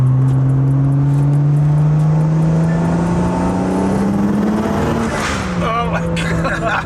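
A tuned BMW 335i with the N54 engine revs through a 2,500–4,000 RPM logging pull, its steady drone rising in pitch as it climbs, close and loud, with a brief whoosh near the end and voices in the background.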